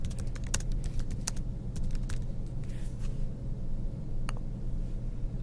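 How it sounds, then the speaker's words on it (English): Fingers tap out a comment on a computer keyboard in quick irregular bursts of crisp, close clicks over a low steady hum, with a short pause before a final few keystrokes. "I can just start typing my comment."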